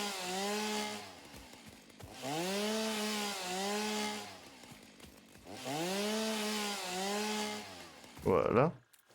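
In the video game Satisfactory, a chainsaw whines through three sustained revving cuts with warbling pitch dips, loud and near, separated by short lulls and ending with a brief sharp clatter.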